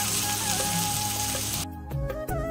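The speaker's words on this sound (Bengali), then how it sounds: "একটু ভাজা ভাজা করে নিই" Tomato fries in a pan with a steady, loud sizzle that thins out partway through, with no voices.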